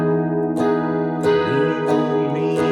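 Electric guitar plays the bridge of a song, four sustained chords strummed roughly every 0.6 seconds, each ringing into the next, close and steady with no talking.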